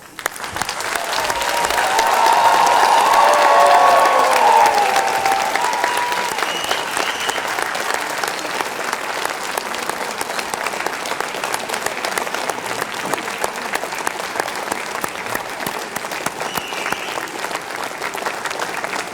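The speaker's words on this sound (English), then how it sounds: "We owe you one massive round of applause." A large crowd at an MIT graduation ceremony gives standing graduates a long, loud round of applause with some cheering, swelling early and then settling into sustained, even clapping for nearly twenty seconds.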